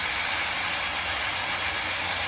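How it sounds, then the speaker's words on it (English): A handheld hair dryer blows a steady, loud, even rush of air, unbroken for the whole stretch. "hair dryer on."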